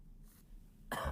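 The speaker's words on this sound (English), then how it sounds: "excuse me, I'm getting over a bit of a cough here." A single harsh cough bursts out near the end, loud and close, after a short stretch of quiet room noise.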